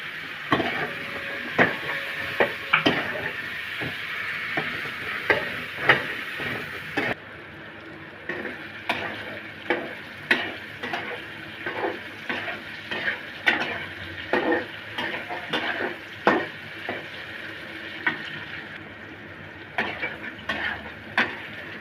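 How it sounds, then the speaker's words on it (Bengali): Pointed gourd (potol) frying in a pan with a steady sizzle, broken by frequent sharp scrapes and clinks of a spatula stirring against the metal, close by. "আমার পটল একটু ভেজে দিব"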